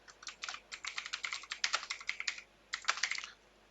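Rapid bursts of keystrokes on a computer keyboard typing text into a PowerPoint slide, close and crisp, with a short pause before a final flurry.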